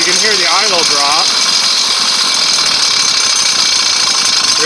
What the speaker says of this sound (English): when I shut that flow off, you can hear the idle drop